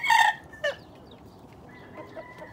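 A rooster crows loudly at close range in one sharp burst, followed by a brief call and a few fainter clucks and bird sounds.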